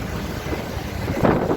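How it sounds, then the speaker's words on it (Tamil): Strong gusty wind blowing before rain near the Kaveri river bridge, a steady broadband rush with louder gusts toward the end, buffeting the microphone. "மழை வர பார்க்குது வீசி அடிக்குது காத்து"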